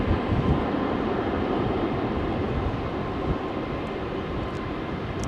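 Heavy jets departing Heathrow's runway 27L make a continuous, dense roar that stays loud and fairly steady, easing slightly toward the end, with no voices.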